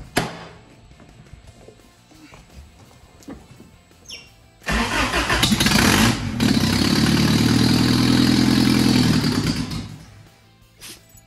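A Toyota mini truck engine cranks and catches on two-decade-old fuel, then roars loudly and unevenly for about five seconds before cutting out, after quiet clicks and handling sounds.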